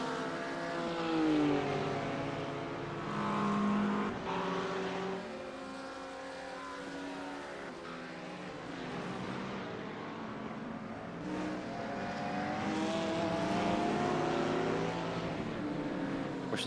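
Race car engines of BMW and Porsche cars lapping Oran Park in iRacing, a steady layered roar of several engines with rising and falling pitch as they pass, continuous and fairly distant, with no talking.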